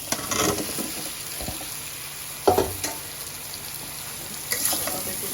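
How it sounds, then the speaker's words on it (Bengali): Bottle gourd pieces dropped into masala in a hot pan, fried and stirred for a Bengali dish with puti fish; a steady sizzle with a few sharp clattering stirs and splashes. "এখন আমি যে লাউ কেটে রাখছি এখন লাউটা দিয়ে দেবো"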